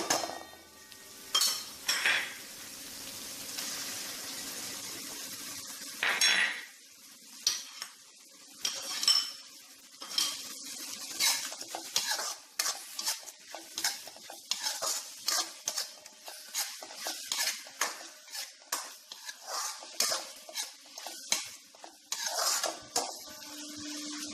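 Metal utensils clinking and scraping against a pan while onions fry with ginger garlic paste for Mumbai-style pav bhaji, with a steady light sizzle under repeated close, irregular stirring clatter and no talk.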